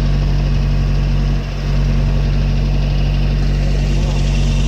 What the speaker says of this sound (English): we are driving it right now on the new wheels and tires